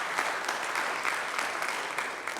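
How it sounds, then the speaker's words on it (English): A synagogue congregation gathered to honor its rabbi emeritus applauds in a dense, even burst of clapping, close and sustained without talk. "You should give yourself a big round of applause for that."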